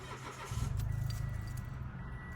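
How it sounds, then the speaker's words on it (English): A parked car on level ground with the emergency brake set cranks and starts, its low engine rumble rising sharply and then settling into a steady idle, close and clear with no talking. "You start the car."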